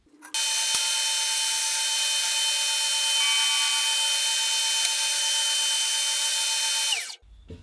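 A power saw cuts wood for a marking gauge, giving a steady, loud, high motor whine that holds for about seven seconds before winding down and stopping.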